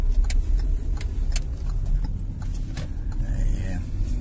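A car pulling away during a driving lesson as the clutch is released, the engine humming low and rising slightly under an instructor's voice, with small clicks and cabin noises close by.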